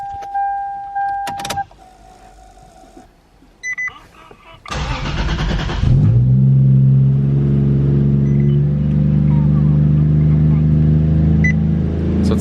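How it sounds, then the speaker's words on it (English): A Toyota JZX100 engine catches and settles into a steady, raised idle, preceded by electronic beeps and clicks inside the car, with the engine droning loudly and evenly afterward. "So it's got a high idle."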